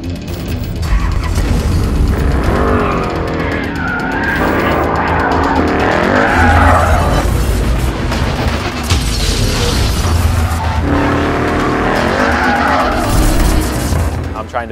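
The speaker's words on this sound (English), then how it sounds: "We're driving a Roush Stage 3 Ford Mustang." A Roush Stage 3 Ford Mustang races hard on a track, its loud engine roaring steadily while tires skid and squeal in repeated bursts, with voices talking over the noise throughout.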